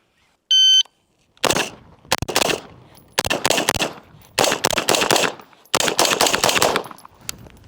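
An electronic shot-timer beep sounds first, then rifle shots from HK and Daniel Defense rifles during a timed training drill ring out close and loud in several quick strings separated by short pauses.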